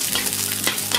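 Chopped garlic frying in about two tablespoons of olive oil, a loud, close, continuous sizzle with faint stirring scrapes and no voices.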